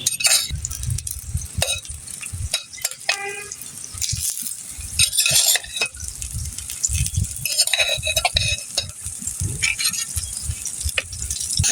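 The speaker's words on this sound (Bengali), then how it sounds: "এখন মাছগুলো দিয়ে দিচ্ছি।" Rohu fish pieces go into a curry simmering in a pan over a village wood-fired stove, bringing dense clinks and stirring scrapes with wet sizzle and bubbling throughout, close and continuous.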